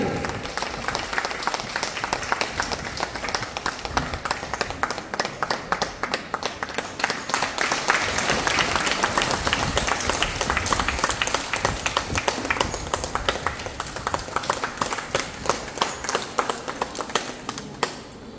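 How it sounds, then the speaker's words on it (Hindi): An audience at an office opening ceremony in Ramgarh claps loudly and steadily for almost twenty seconds, a dense continuous applause at an even level with no speech above it. "जोरदार ताली से मैम के लिए आप लोग ताली बजाएं।"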